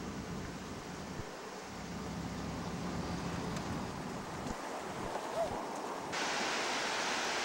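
The Athabasca River, a big river, flows with a steady broad rushing wash that is fairly faint and even throughout, mixed with wind buffeting the microphone.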